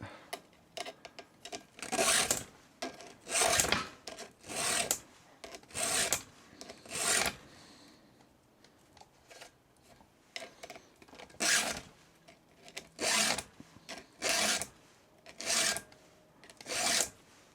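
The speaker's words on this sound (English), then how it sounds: "Chain sharpened." A hand file sharpens a chainsaw chain in rhythmic, rasping strokes, close and distinct. The strokes come in two bursts separated by a short pause, with no talking.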